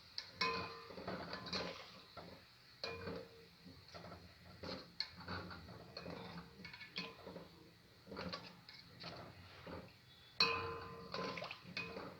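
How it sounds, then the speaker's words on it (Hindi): A spoon stirs chicken stock in a pot, scraping and clinking against the metal over and over in irregular strokes, with a faint watery slosh and a few louder knocks, close by and with no voices. "अब हम इसको थोड़ी देर के लिए हिलाएंगे चम्मच को।"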